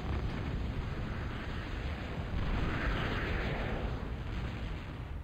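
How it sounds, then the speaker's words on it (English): Artillery fire in a real-time strategy game battle, heard as a dense continuous rumble of explosions and booming blasts, loud and sustained throughout with no pauses. "X is using artillery"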